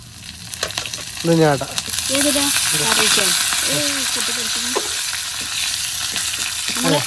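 A dish sizzles and fries in a pan while it is stirred. The loud, steady hiss grows after a couple of seconds, and someone speaks briefly over it.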